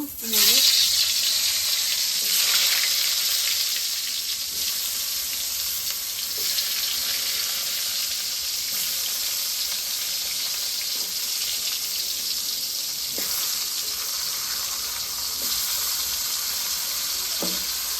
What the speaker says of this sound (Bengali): চাকতল ভেজে নিব।